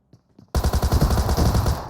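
Gunfire in the mobile battle-royale game PUBG Mobile: after a couple of faint soft taps, a loud, close burst of rapid, evenly spaced shots cracks out and runs continuously for over a second, with no talking.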